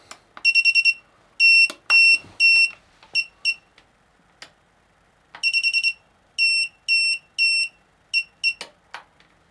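An FPV quadcopter beeps repeatedly after being plugged in during Betaflight 4.2 setup, sending out loud, close bursts of sharp electronic tones in rapid groups, separated by brief pauses and a few clicks.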